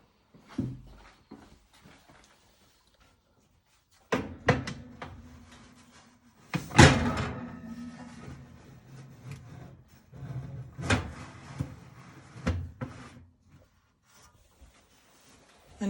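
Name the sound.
oven door closing after placing egg custards inside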